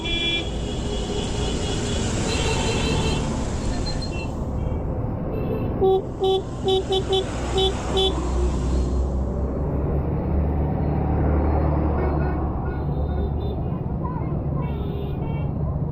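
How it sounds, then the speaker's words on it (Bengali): Slow-moving traffic on a rainy road, with a steady engine rumble and a short burst of car horns honking partway through, heard from a vehicle in the jam alongside faint voices. "সামনে হালকা জ্যাম রয়েছে"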